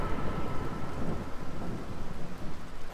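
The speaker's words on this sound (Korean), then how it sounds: "오, 번개 한번 성의 없게 내리시네." Thunder rumbles from lightning in the horror game Bad Dream Coma, a dense continuous roll layered with heavy rain, with no talking.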